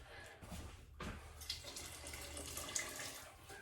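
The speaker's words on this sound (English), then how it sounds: "I'm gonna add some more water" Water is poured into a pot of brown rice chicken congee, making a faint, continuous splashing trickle.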